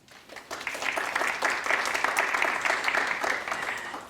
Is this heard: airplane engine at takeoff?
no